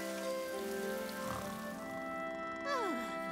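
Rain in a Thomas & Friends cartoon, a steady patter under music-like tones and a falling whistle.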